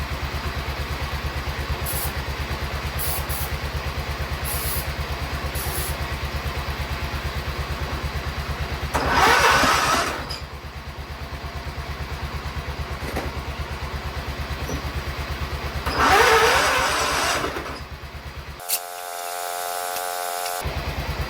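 A John Deere STX 38 lawn tractor engine cranks, catches and idles with a steady close mechanical chug and clatter, revving up in two brief bursts before cutting off abruptly near the end.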